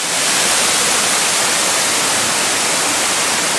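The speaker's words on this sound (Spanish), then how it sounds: "Las cascadas desde cerquita" Mountain waterfall cascades heard from very close, a loud, dense and constant roar of falling water filling the short span, with no voices.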